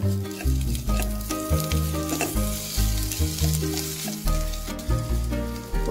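Chopped tomato frying in a pan for a simple home-style vegetable dish, a steady crackling sizzle with repeated stirring scrapes in a regular rhythm, close and fairly loud, with no talking.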